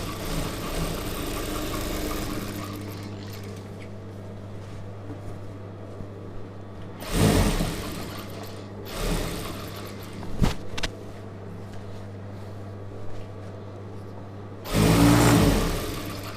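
Sewing machine stitching a star neck chudidhar, its motor whirring in a steady run at the start, then short separate bursts of stitching, fairly close and loud, with no talk.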